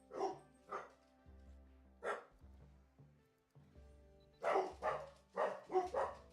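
Dogs bark in the video game Rimworld, sending out a scattered series of sharp, close barks. A couple come early, then a quick cluster of several near the end, with no talking.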